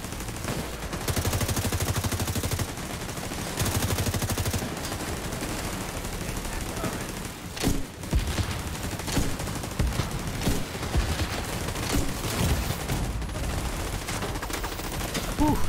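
Heavy automatic gunfire rattles through a firefight in the video game The Division 2, loud overlapping bursts and sharp single shots, with players talking intermittently beneath the shooting.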